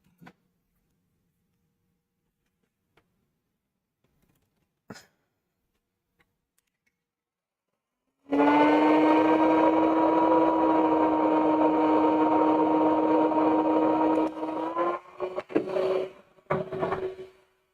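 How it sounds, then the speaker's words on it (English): After a near-silent stretch and a couple of clicks, a heat gun starts up close beside a Prusa Core One 3D printer with a steady electric whine and droning hum, runs loudly, then stutters and cuts out. "This needs a heat gun."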